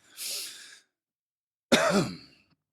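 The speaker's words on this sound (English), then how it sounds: "Sorry, I coughed" A breathy exhale followed after a pause by a single sharp, close cough that trails off into a rough voiced rasp.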